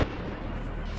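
A single gunshot sound effect hits as a sharp, loud crack at the very start, then leaves a low rumbling tail that fades over the next second.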